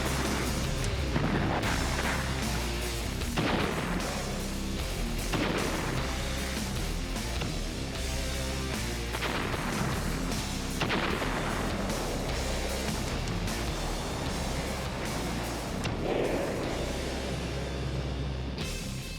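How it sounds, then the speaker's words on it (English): A massed WWII American artillery barrage of 140 guns in the Pacific, a continuous dense roar of overlapping booms and blasts with no letup, loud and close throughout. "American soldiers unleash a 140-gun artillery barrage."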